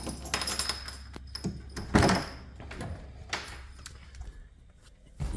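Door of a 1964 Mustang D-code convertible worked open, with a few metallic clicks and jangles followed by a solid thunk near the middle, then quieter handling sounds, close and with no talking.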